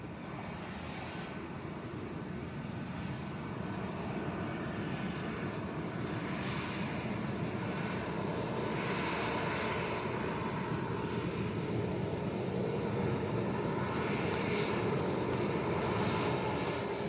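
Airliner braking and turning on the runway at Lanzarote Arrecife airport: a steady, broad engine roar held for the whole stretch at moderate distance, with no one talking.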